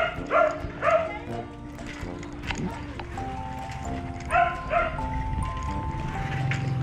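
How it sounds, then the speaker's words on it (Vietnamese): A dog in a Vietnamese village lane barks in short pairs of sharp yelps at mid-distance during a bicycle ride, with voices and street noise between the barks. "Có chó nên mấy đứa em mình nó sợ."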